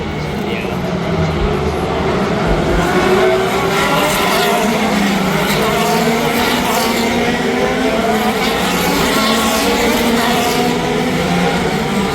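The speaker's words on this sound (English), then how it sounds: "Doing a couple of warm-up laps with the pace car." Race cars run warm-up laps behind a pace car, a loud continuous engine drone with shifting pitch bands, heard with someone talking over it.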